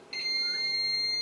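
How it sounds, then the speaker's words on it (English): A FlashForge Finder 3D printer gives a steady, continuous high-pitched electronic beep during bed leveling, starting after a brief pause and holding without interruption, close and clear over faint background hiss. "okay, so that's beeping, I'm going to verify."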